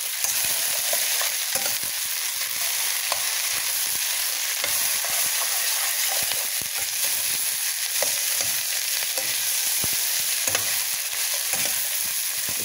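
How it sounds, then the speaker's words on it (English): Broccoli frying in a hot pan with constant loud sizzling and crackling, plus occasional stirring scrapes and clicks all the way through, with no voices. "It takes like about 5 minutes to fry them."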